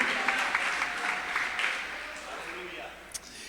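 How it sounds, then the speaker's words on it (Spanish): Church congregation applauding together during a sermon, a steady wash of clapping that carries on for several seconds at moderate volume with a brief louder clap near the end. "Demos el aplauso al Señor en este momento"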